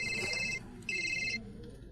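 A telephone rings in an office in two long electronic bursts separated by a short gap, moderately loud over a low room hum.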